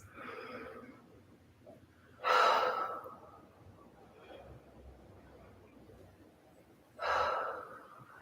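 Deep breathing while holding a crescent lunge yoga pose. Two loud, close exhales or inhales rise above a quiet room tone, spaced several seconds apart.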